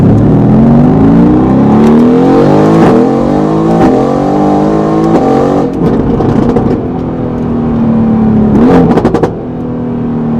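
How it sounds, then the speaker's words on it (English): A 2018 Mercedes-AMG GT R accelerating on the road, its engine loud and near, climbing through repeated rising pitch sweeps broken by sharp gear-shift breaks, with no voices. "this 2018 AMG GTR that I'm currently driving"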